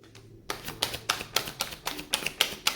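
Tarot cards are shuffled in quick crisp bursts after a short quiet start, about ten sharp riffling snaps at a brisk, regular rhythm, close and clear.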